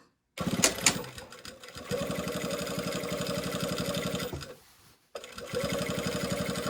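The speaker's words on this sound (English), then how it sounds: "I'm going to sew right on top of this edge stitch line." A sewing machine stitches along an edge-stitch line while a garment body is assembled, its needle chattering in a fast, steady rhythm close by. The run pauses briefly near the middle, then resumes at the same pace.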